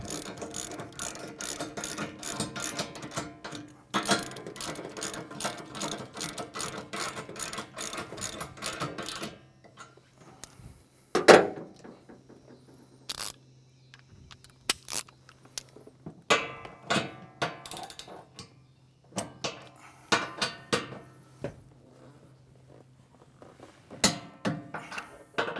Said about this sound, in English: So now we're going to tighten the 2 bolts at each pilot assembly to 80 foot-pounds.